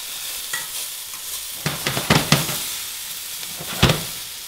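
Onions and garlic sauté in a pan with a soft, steady sizzle, broken by several sharp scraping and clinking stirs of a utensil against the pan.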